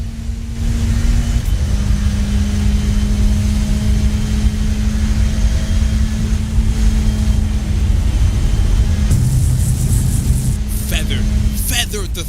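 A Radical racing car's engine at full throttle through 130R at Suzuka in iRacing holds a steady, droning pitch with a shift late on, running under continuous commentator talk.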